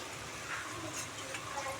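Ingredients for a coriander and tomato chutney frying in a home kitchen pan, a quiet, steady hiss of oil with soft stirring.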